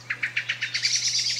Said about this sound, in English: Normally, when you hear a blackbird, its alarm sound, everybody else hears it.